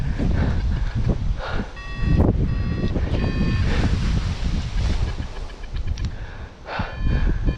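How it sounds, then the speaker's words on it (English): Strong ground wind buffeting a microphone during an aircraft landing, loud continuous gusting roar with intermittent electronic warning beeps over it. "I didn't realize how strong the wind on the ground was"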